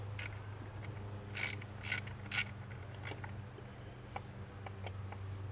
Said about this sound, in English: there's one on the other side, so let me get up in there